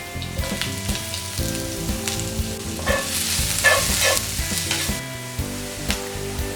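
Curry leaves and finely chopped shallots sizzle and crackle in hot oil for Kerala chicken puttu, a dense, close frying hiss with sharper pops and the scrape of stirring, no voices.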